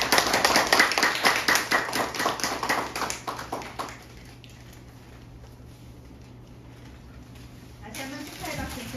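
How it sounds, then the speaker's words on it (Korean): Audience applause at a poetry award ceremony, a burst of steady claps for about four seconds that fades out, followed by quiet room tone and a brief voice at the end. "축하의 박수 부탁드립니다."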